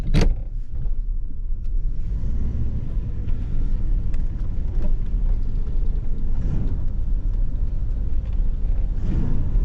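A 1985 Buick LeSabre with a V8 driving along, a steady low engine and road rumble heard from inside the cabin, fairly loud and continuous, with a brief thump at the start.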